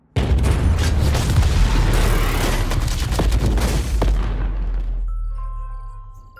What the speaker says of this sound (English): The new robot combat fighter is out! The explosions are in